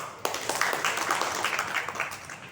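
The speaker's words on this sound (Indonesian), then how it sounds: "tepuk tangan untuk Yus Pak" An indoor audience breaks into clapping for Yus, starting abruptly and continuing as a moderate, fairly even patter of many hands heard at a distance.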